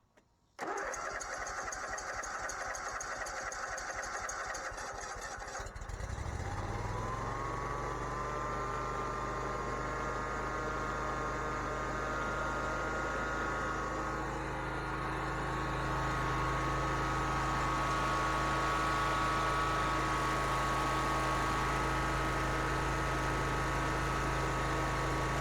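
A Bobcat zero turn mower engine cranks, catches and settles into a loud, steady running drone with a constant tone, close by and with no talk.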